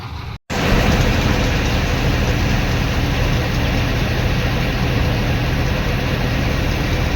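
A tractor engine idling in a village setting, a steady low rumbling drone that runs unbroken after a brief dropout at the start, close and loud.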